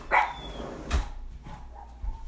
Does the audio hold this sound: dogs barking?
yes